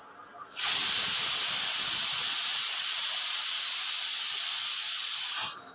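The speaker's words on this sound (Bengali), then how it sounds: "কই মাছগুলো দিয়ে ভালোভাবে ফুটিয়ে নামিয়ে নেব" Koi fish curry at a steady boil in a pan on a Bengali home stove, giving a loud, continuous steamy hiss that starts abruptly and holds almost unchanged for about five seconds before cutting off.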